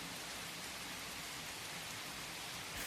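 Steady rain falls across the whole stretch, a dense even hiss of drops on surfaces with no voices over it.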